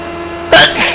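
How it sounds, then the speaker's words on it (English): A single sharp sneeze bursts out midway through a racing sim session, a short loud broadband blast followed by a softer trailing exhale, over a steady background hum. "Not the time to be sneezing."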